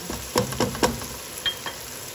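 Gourd and onion frying in a pan, stirred with a few sharp scraping strokes over a steady low sizzle, each stroke a brief close burst.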